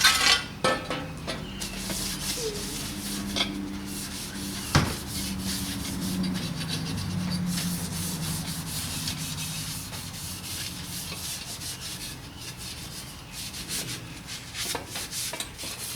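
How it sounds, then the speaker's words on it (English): Scotch-Brite pad scuffing the edges of aluminum sheet by hand, a steady close rubbing and scratching texture that runs throughout with a few sharper knocks near the start, no voices. "make sure you hit it with a Scotch-Brite."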